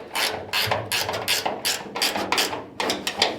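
Bolts are being ratcheted in temporarily to mount exhaust brackets on a Chevy COE truck, giving repeated bursts of rasping ratchet clicks with brief pauses between strokes, close and fairly loud, with no talking.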